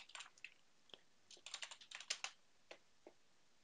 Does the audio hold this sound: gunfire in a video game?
no